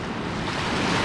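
Roaring river rapids at Boucher Rapids, a steady full-bodied rush of churning whitewater that fills the whole moment without pause and builds slightly toward the end.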